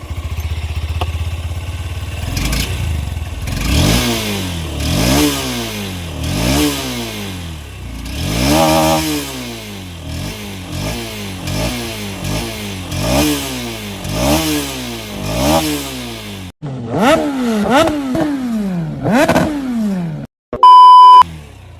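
A Honda CB200X motorcycle engine revs repeatedly, rising and falling in a rhythmic series of throttle blips, close and loud, ending with a short electronic beep.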